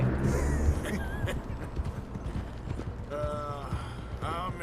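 Horse hooves clip-clop at a steady walking rhythm in Red Dead Redemption 2, close and moderately loud, alongside game ambience and a voice talking over them.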